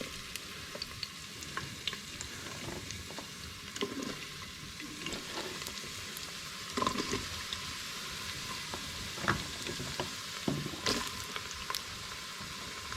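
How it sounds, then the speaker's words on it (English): Onions frying in hot oil for chicken dal, a steady soft hiss and crackle with occasional stirring clinks, fairly quiet and close, with no talking. "now that our oil is heated up, we'll just add these onions"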